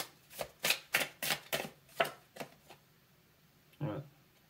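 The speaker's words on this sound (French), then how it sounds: "je prends les dernières cartes" Tarot cards being drawn and handled: a quick run of about seven crisp, close slaps and slides, then a pause and one softer card sound near the end.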